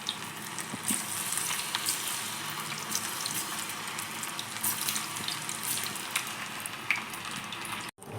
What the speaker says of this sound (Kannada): ಗೋಬಿ ಕಾಯ್ತಾ ಇದೆ ನೋಡಿ